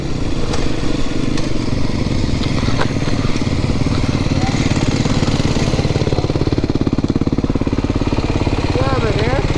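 A new Aprilia SX 125 motorcycle engine runs steadily while riding, with a loud, buzzy, continuous throb and a gear shift into neutral. A rider's voice is heard over the engine.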